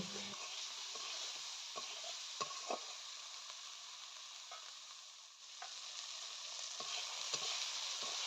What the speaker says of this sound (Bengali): হলুদ আর লবণ মিক্স করে নিয়ে সব কিছু ভালো করে আর একটু ভেজে নেব